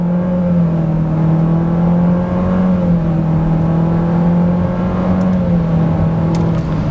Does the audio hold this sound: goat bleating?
no